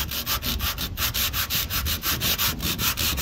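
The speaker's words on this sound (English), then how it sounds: "Did you wanna try sanding some of the rust?" Rhythmic back-and-forth sanding of rust off car body metal on a Ford Cortina Mk4, about a dozen quick rasping strokes in steady succession, close up.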